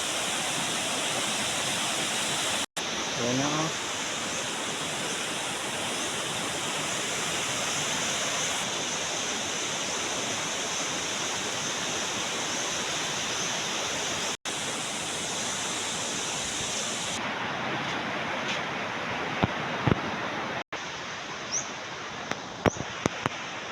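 A river in flood after a typhoon rushes with a constant, loud broadband roar that never lets up, with a brief spoken phrase and a few knocks near the end.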